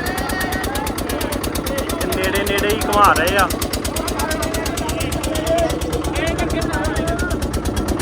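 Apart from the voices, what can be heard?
boat engine straining at full power against river current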